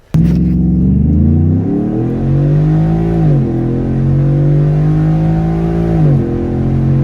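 A Ford F-150 pickup with a 5.0L V8 accelerates hard, its deep engine note climbing through the gears with brief dips at each shift, loud and close with no talk.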